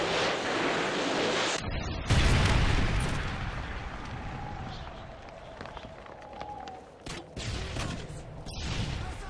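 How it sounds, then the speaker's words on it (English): A Predator missile strike in the multiplayer game Modern Warfare 2 on the Salvage map, a heavy roaring blast that swells loudly and rumbles on for several seconds amid distant battle noise. "Repeat, Predator missile, Predator launch."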